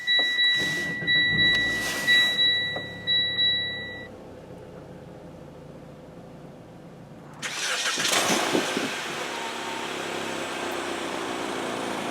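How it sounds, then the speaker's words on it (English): A 2017 Mitsubishi Lancer SE cabin sounds repeated electronic warning chimes, then falls quiet before the engine cranks, catches with a brief rev and settles into a steady idle. "And it'll start the car right up."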